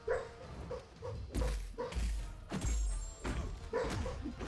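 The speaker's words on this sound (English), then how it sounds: "Oh, who are you barking at, girl?" A sleeping dog in the middle of a dream gives a run of soft, muffled woofs and whimpery yips at close range, with a few dull thumps between them, all fairly quiet indoors.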